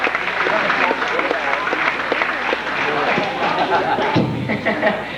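A theme-park studio show audience claps and cheers in a dense, continuous burst of applause, with voices and chatter mixed into the crowd noise throughout.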